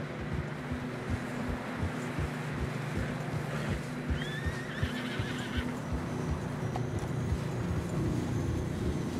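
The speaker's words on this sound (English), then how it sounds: "Horses are struggling." Horses trudge through deep fresh snow in the video game Red Dead Redemption 2 with a steady rhythm of heavy hoof thuds, a horse whinnies partway through, and low wind noise sits underneath.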